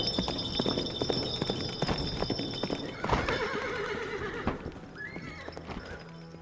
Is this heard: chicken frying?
no